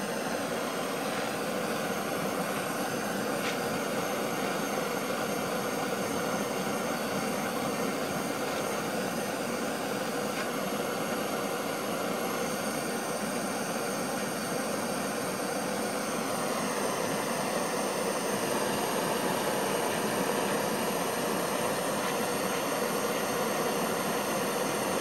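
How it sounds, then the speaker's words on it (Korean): A lit blowtorch heating a silicone-molded PCB case from a dishwasher, giving a steady, continuous roaring hiss close by that holds the same level throughout with no talk. "토치를 켜서 이 토치를 가지고 열을 이렇게"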